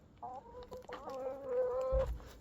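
Chickens cluck and murmur nearby in a short run of soft, throaty calls, with a brief thump near the end.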